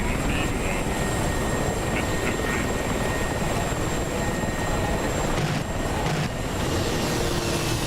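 Mi-24 helicopter in the DCS combat flight game: dense, loud, continuous rotor and engine roar filling the whole clip without a break, steady throughout.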